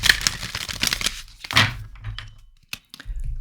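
A deck of tarot cards is shuffled up close, giving quick bursts of riffling, flapping card noise with brief pauses and a few soft taps between.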